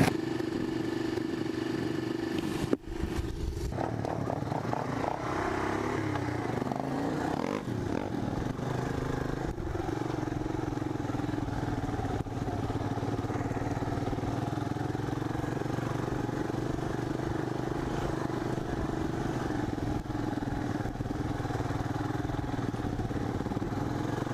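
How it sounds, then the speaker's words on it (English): An Arctic Cat DVX 400 quad drones steadily while riding, its engine a continuous loud rumble with a brief clunk early on and faint rattling throughout, no voices. "That quad rides pretty low, eh?"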